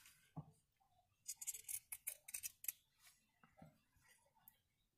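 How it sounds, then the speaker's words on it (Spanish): Scissors snip through sewn fabric about half a centimetre from the seam, giving a quiet run of close, crisp cutting clicks and slicing strokes with short pauses between. "Lo estoy recortando aproximadamente como a medio centímetro de la orilla."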